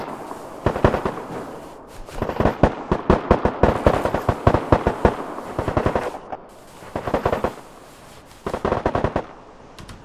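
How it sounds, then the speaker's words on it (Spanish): Bursts of gunfire in the survival shooter Deadside, sharp loud cracks in rapid clusters with short pauses between volleys, fairly close and alone without talk. "Está disparando, loco."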